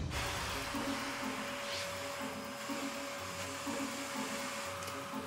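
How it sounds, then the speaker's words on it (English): A Hoover vacuum cleaner runs steadily as it is pushed through a room, a continuous broadband roar with a faint hum that stays at an even level throughout. "Sorry about the owner walking through with the Hoover."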